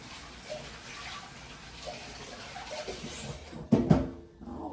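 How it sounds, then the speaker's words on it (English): A tap runs water at a low steady level while hands are washed under it, ending with a louder splash and clatter near the end as the flow stops. "Let me wash my hands real quick."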